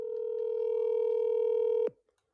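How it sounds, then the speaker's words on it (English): A telephone call being placed, with a steady tonal ringback or dial tone held for about two seconds before cutting off abruptly into near silence. "Let's see if he answers the phone."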